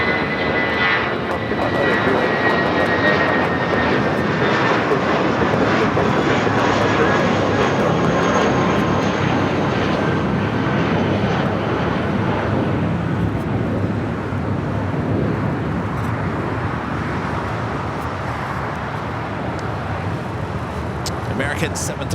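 An American Airlines Boeing 737-800 passing over at LAX, its engines roaring loud and steady for over twenty minutes' worth of sustained rush, slowly fading, with a person talking over it.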